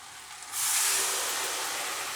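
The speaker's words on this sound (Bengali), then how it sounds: "এবার আমি ওই স্টক জলটা এর মধ্যে দিয়ে দেবো।" Stock water poured into a pan of fried spices for a beetroot and mixed vegetable curry bursts into a loud sizzling hiss that settles into a steady bubbling fizz.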